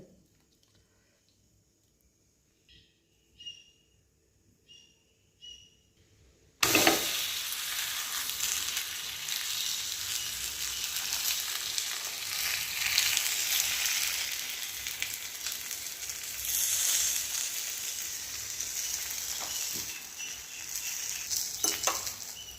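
Drumstick leaf adai cooking in a hot pan: after a few quiet clinks, a loud, steady, close frying sizzle starts suddenly and crackles on continuously without pause.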